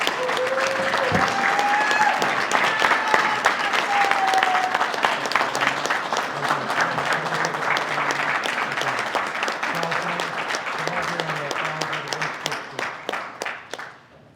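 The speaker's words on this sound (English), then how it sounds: "Let's give them all a big round of applause." Sustained applause from an audience at a Lawton city council meeting, dense steady clapping that fills the room for about fourteen seconds before tapering off, with a few voices faintly under it.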